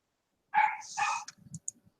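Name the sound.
Chihuahua Jack Russell mix dog barking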